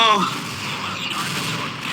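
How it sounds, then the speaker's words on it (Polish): Gunfire in the Black Mesa video game: a sharp burst fades into a noisy, rumbling tail, with a voice present alongside it. "Jeden strzał starczył."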